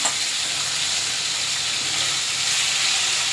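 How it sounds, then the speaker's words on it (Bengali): A large crab, cut in half, fries in hot oil, giving a loud, steady hiss and crackle that stays close and even throughout, with no talk. "এবার ভালো করে তেলে ভেজে নেব"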